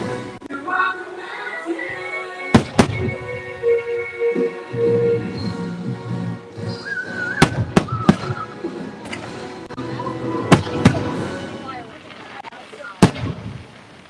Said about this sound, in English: and look up at the fireworks.